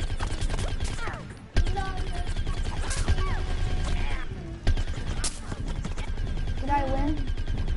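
Video game gunfire aimed at a tree, rapid bursts of shots with sharp cracks, mixed with speech and game sounds throughout.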